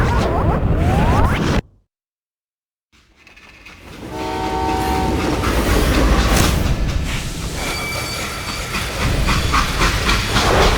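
A train from the video game Call of Juarez Gunslinger rumbles loudly, cuts briefly to silence, then returns with a blaring horn, hissing steam and rolling wagon noise.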